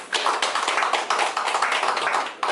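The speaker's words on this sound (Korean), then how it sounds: "다 같이 박수 아, 예, 부탁드리겠습니다" An audience at a festival bursts into lively applause, a dense, sustained wash of many hands clapping close by, holding steady for a few seconds before tapering off.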